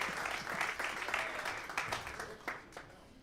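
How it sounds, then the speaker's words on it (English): An audience at a jazz talk event applauds steadily, a dense wash of many hands clapping at moderate distance, continuous for a few seconds without a break. "Y'all can keep clapping till he comes"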